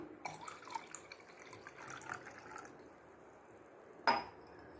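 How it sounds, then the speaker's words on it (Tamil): Coconut water poured and mixed into cooled milk for tender coconut payasam, a steady close liquid trickle lasting several seconds before a brief sharp clink near the end, with no voices. "இந்த இளநீர் தண்ணியை மிக்ஸ் பண்ணிக்கலாம்"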